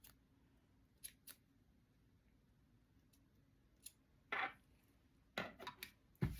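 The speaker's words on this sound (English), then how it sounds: "they're still a little long, so I'm going to trim mine down just a little bit more" Scissors trimming craft material for a small chick figure, a few sparse snips in a quiet room, then a cluster of sharper close cuts near the end.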